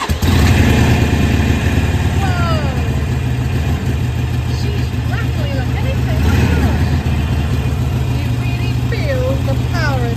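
Harley-Davidson 883 motorcycle starting and settling into a loud, close, rumbling idle that holds steady throughout.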